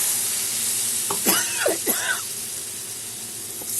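Rinse water from a mixer jar poured into a pan of fried, cooked-down spice paste with turmeric for a tomato rohu fish curry, bursting into a sharp hiss and sputter for a couple of seconds over steady background sizzling.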